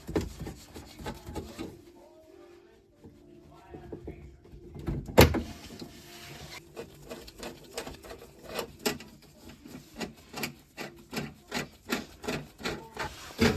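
A gas hob being removed from a kitchen worktop: scraping, rubbing and knocking of metal and fittings, with a sharp clatter partway through and a run of rhythmic rasping clicks afterwards, close and moderately loud, no voices.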